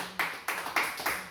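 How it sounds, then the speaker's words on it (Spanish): A church congregation clapping in unison, with four broad, firm claps evenly spaced over about a second, under a faint background voice. "hermana Angélica, palmas fuertes al Señor Jesús"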